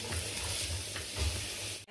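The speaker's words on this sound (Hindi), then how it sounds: "प्याज को हमें भूनने देना है।" Steady frying sizzle of onions in hot ghee for dal makhani, continuous and close, with occasional stirring scrapes and low thumps.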